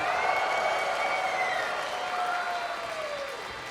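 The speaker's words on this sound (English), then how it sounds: "the crowd goes wild" Steady crowd applause and cheering for the oboe winning a long-note competition in a comedic orchestra game, continuous and fairly loud, with a sustained oboe-like tone fading over it.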